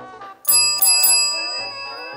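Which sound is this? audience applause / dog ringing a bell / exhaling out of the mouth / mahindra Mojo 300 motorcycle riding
dog ringing a bell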